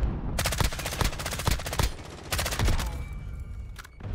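Rapid rhythmic bursts of suppressed marksman rifle fire in the video game Modern Warfare 2019, two strings of sharp shots close together with a faint electronic tone after.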